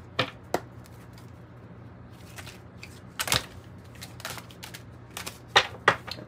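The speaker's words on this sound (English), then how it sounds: "that was a weird shuffle" Tarot cards are shuffled in short irregular bursts, crisp riffling snaps and slaps scattered over a quiet room, some sharp and close, with gaps between.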